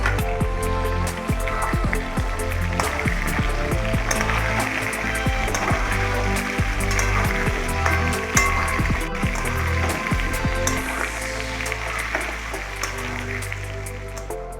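Potatoes coated with turmeric and salt fry in hot oil for chicken biryani, giving a steady, close crackling sizzle with scattered sharp pops and no talking.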